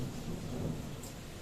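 Heavy rain pours in a dense, steady hiss, with the low rolling rumble of thunder beneath it during a storm that soaked and flooded a home.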